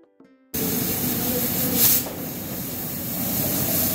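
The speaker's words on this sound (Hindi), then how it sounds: "कुकर में सीटी भी लगा सकते हैं, कुकर बंद करके और 2-3 सीटी आने तक इसको पका लें" A pressure cooker whistles while mutton cooks in it, a sudden loud, steady hiss of escaping steam that starts abruptly after a brief faint sound and holds on close by, rising briefly in the middle.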